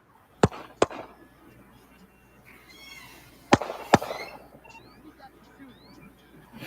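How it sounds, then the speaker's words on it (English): Gunshots from a played video ring out as two sharp cracks, a pause, then two more, heard under low background chatter in a room. "that sounds like actual gunshots"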